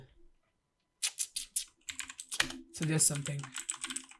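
Clicks from a computer keyboard come in quick bursts, first a few separate taps and then a denser run of typing, and a voice speaks briefly partway through.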